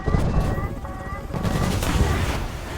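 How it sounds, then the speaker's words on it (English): An incoming missile strike in War Thunder, aimed at an MH-60L DAP helicopter, arrives as a dense, loud roar of rapid gunfire-like cracks and rumbling blasts that runs steadily throughout without pause. "Oh, here comes the missile."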